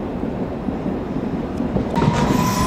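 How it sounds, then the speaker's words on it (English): A London Underground Hammersmith and City Line train approaches at Barking, a steady loud rumble of wheels on rail rising slightly, with a thin high whine joining near the end. "approaching is a terminating here Hammersmith and City Line train"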